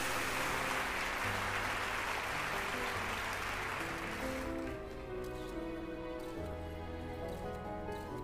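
Applause from an audience at an award ceremony, a dense steady patter of clapping that thins slightly midway, with background music tones running beneath.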